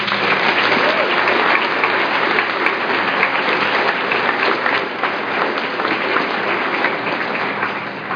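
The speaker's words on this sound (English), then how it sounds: "can we just give a round of applause for the 4 speakers?" An audience at a live 2013 Sparhawk graduation ceremony applauds the four student speakers, a steady, dense wash of many hands clapping that holds evenly loud throughout.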